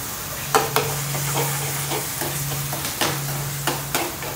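Chopped tomatoes fry and sizzle in a pan, with a steady hiss broken by several sharp scraping stirs of a spoon against the metal; no one speaks.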